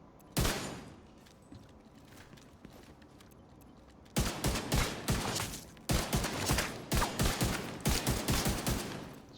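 Vindicator gun from The Division 2 fired at the firing range: one loud shot, a few faint ones, then repeated rapid bursts of loud, evenly spaced shots with no talk.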